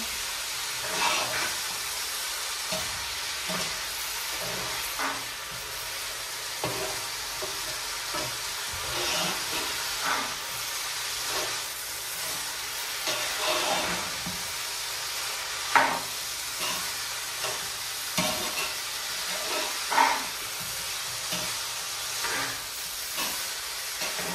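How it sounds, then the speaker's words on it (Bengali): Rice frying in a pan for Sylheti meat pilau, a steady low hiss with scattered soft scrapes and small clicks over about twenty seconds, moderately quiet and without speech. "3 থেকে 4 মিনিট চালটাকে ভাজবো"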